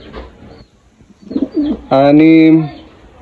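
Pigeons kept by a racing-pigeon fancier give a single clear, close coo lasting under a second, preceded by softer rustling and faint murmurs.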